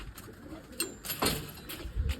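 Pet pigeons coo softly nearby, a few low throaty calls rising and falling over a quiet background.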